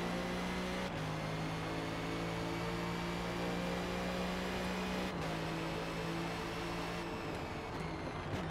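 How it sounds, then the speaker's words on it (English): Engine of a race car in the Forza Motorsport video game held at its rev limiter, a loud steady drone that briefly dips and bounces a couple of times. "we still rev bounce a little bit on that"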